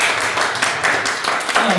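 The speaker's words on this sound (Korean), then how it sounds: "여러분 박수 쳐주세요." A congregation at a church youth service applauds briefly, a dense burst of clapping from many hands lasting under two seconds, with voices mixed in.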